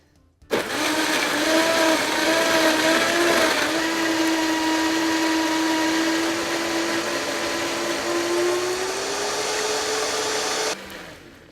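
A blender crushing ice for a smoothie whirs loudly for about ten seconds, its motor grinding and dropping in pitch as the load changes, then cuts off abruptly.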